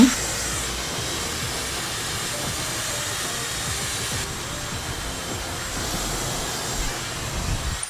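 Hair dryer blowing on long, thick hair, a loud steady roaring airflow running throughout, with the pitch shifting slightly partway as the dryer moves.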